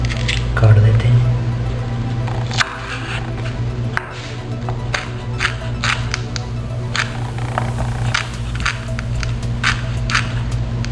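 A knife chops green chilies on a board in a steady run of sharp taps. A low background hum runs beneath the chopping.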